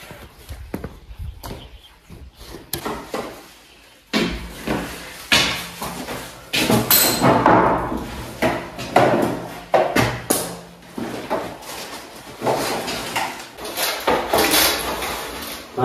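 A wooden board is lifted and handled on the roof of an abandoned house under repair, with irregular thumps, knocks, scrapes and footsteps, close and busy.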